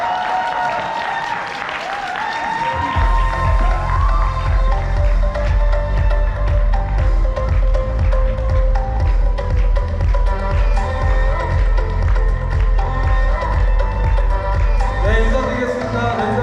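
A seminar audience at a resort in Cheonan claps to welcome a business speaker to the stage. Music plays throughout, and a strong, steady beat joins in after a few seconds and keeps going under the clapping.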